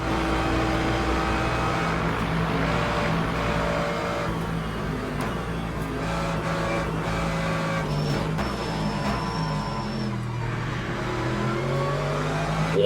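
Mercedes race car engine in the endurance racing sim Le Mans Ultimate, a steady loud roar held at high revs with gear changes and pitch shifts, running continuously with other cars audible around it.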